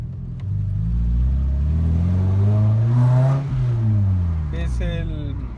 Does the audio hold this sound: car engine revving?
yes